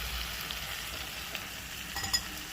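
Vegetables with grated ginger being stirred and fried in a pan, a steady close sizzle with a few light scrapes and taps.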